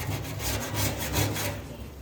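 Rhythmic abrasive scraping of sanding against a car body after welding, several back-and-forth strokes close by, moderately loud, no talking.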